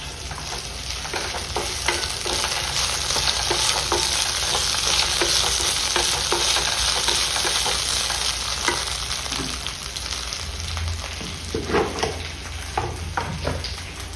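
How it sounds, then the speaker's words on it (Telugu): Curry leaves crackle and sizzle in a spoonful of hot oil, a steady dense frying hiss with scattered sharp pops and some stirring, close and loud with no talking. "ఒక స్పూన్ ఆయిల్ వేసాను. ఇందులోనే కొంచెం కరివేపాకు"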